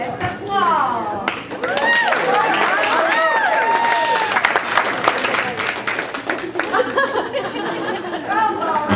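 An audience applauds ballroom dancers at a holiday gala before an International Cha-Cha, with dense, sustained clapping mixed with crowd chatter and an announcer's voice over music.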